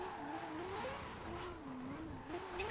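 Tires of a rotary-engined Mazda Miata squealing in a sustained wavering skid, a thin pitched whine wandering up and down over a low engine and road rumble, heard at moderate distance and fairly faint.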